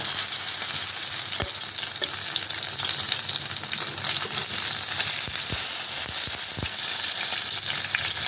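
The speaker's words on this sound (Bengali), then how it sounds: "এটা যত আস্তে ভাজা হবে তত ভালো হবে" Katla fish with turmeric leaves frying slowly in a pan, a steady loud sizzle with occasional sharper pops and crackles throughout, no voices.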